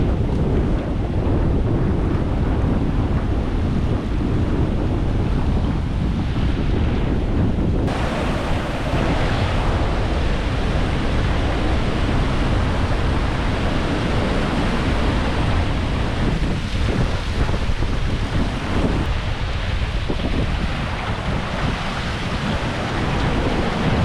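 Strong ocean waves crash and roar continuously on a beach, loud and close, with heavy wind buffeting the microphone throughout.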